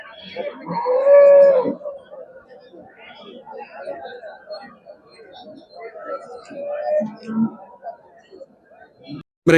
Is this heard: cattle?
yes